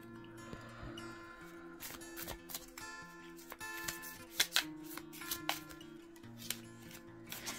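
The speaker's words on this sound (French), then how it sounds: "J'aime brasser mes cartes" Tarot cards being shuffled by hand, quiet riffling and soft papery clicks in irregular bursts, close by, over a faint steady tonal background.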